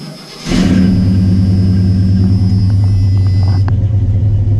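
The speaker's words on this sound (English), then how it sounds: "If you're gonna go ahead and fire her up, make sure we get oil pressure and that there are no funny noises. Tap the gas." A 1985 Chevy square-body pickup engine cranks and catches, then settles into a loud, steady low rumble close by with a slight rise as the throttle is tapped, running alone throughout.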